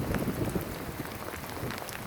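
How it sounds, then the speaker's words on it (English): Rain and gusting wind sweeping around building corners near the Badlands in South Dakota, a rough broadband hiss of falling water with buffeting wind rumble on the microphone, steady and fairly close, no voices. "the wind hits me, and that carries the water and rain around the corners"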